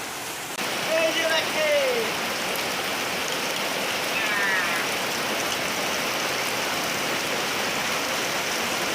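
Steady rain falling on a rainy day while fish are caught outdoors, a dense, even patter of drops throughout, close and constant, with a faint birdlike call near the start.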